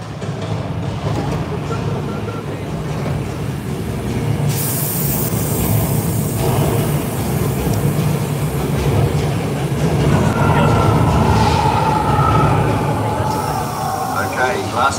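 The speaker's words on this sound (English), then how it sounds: "In the press release, they said the train was making some noise." A studio tour tram rumbles along loudly and continuously, with rattling and occasional hissing bursts, and voices mixed into the ride noise.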